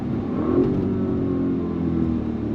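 An Audi RSQ8 performance SUV engine revving hard on throttle, a loud, smooth, continuous drone that climbs in pitch and then holds steady.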